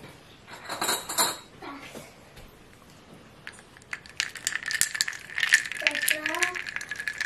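A spoon clinks and rattles around a cup while milk is stirred into a drink. The sharp metallic taps come in uneven bursts, loud and close, with quieter gaps between them.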